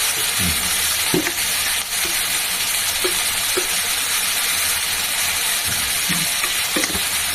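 Vegetables with soaked chickpeas, salt and turmeric fry loudly in a pan, a dense constant sizzle punctuated by dull knocks and scrapes of a spatula stirring every second or so.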